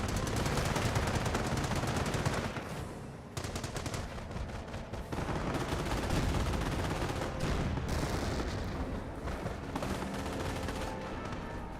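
Dense, sustained battlefield gunfire from enemy infantry in the Company of Heroes 1 strategy game, with rapid machine-gun bursts and overlapping rifle shots rattling continuously and loudly, a brief lull near the middle before the volleys resume.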